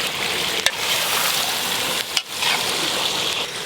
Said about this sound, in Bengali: আমার সাথে সাথে ননদা একটা খুন্তি দিয়ে নাড়া শুরু করে দিয়েছে।